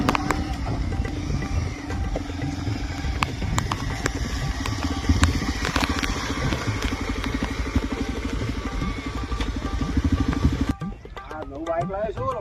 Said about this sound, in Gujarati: બાઈક લાવ્યો છું